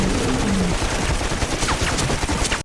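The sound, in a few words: gunfire in Sharktopus film scene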